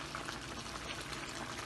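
Rice and water bubble in a pot on the stove, a soft, steady boiling hiss with no talk over it.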